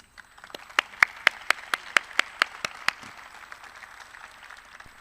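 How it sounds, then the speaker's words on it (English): Applause at a college pinning ceremony for radiography, MRI, sonography and surgical technology graduates, a string of about a dozen sharp, evenly spaced claps from one nearby person over a soft crowd clapping that fades out. "how about a huge round of applause to all these soon-to-be surgical and imaging professionals"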